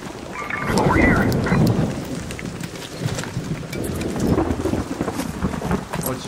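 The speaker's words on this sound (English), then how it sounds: "an electromagnetic storm is currently raging over topside. Beware the lightning strikes if you're outdoors" Thunder rumbles through an electromagnetic storm in a video game, with heavy rolling booms over a steady wash of rain, loud and close, and no voices.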